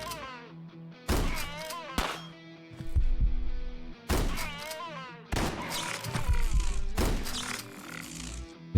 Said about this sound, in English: We'll swap to our shotgun.